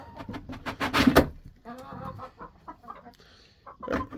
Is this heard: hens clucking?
yes